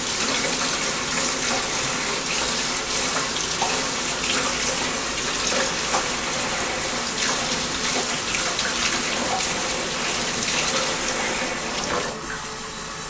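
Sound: water running into sink for cleaning instruments

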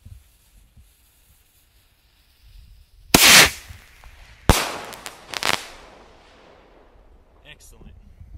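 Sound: surge missile firework launching

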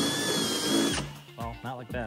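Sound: power drill with step drill bit cutting through metal

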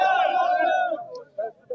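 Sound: rally crowd shouting slogans in response

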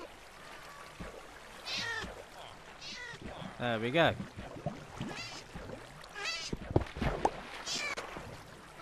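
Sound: cats meowing in Minecraft video game

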